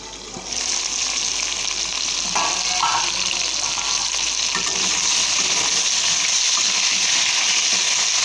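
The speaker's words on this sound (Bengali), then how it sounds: "আলুটা ভাজা হয়ে গেছে" Potatoes fry in a kadai with a steady, loud sizzle that holds across the whole stretch, joined by a few brief scraping stirs near the middle.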